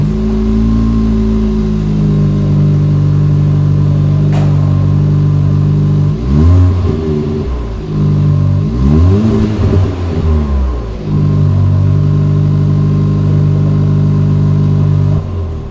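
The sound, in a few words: car sport exhaust revving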